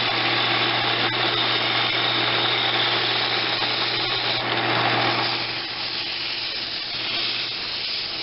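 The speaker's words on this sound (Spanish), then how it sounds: "procedemos entonces a hacer un lijado" A steady high hiss of sandpaper against a long-handled wooden spoon spinning on a lathe over the hum of a running motor, continuous and close, easing slightly toward the end.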